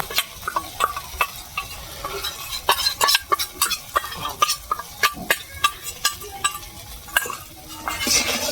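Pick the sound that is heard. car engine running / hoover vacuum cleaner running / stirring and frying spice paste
stirring and frying spice paste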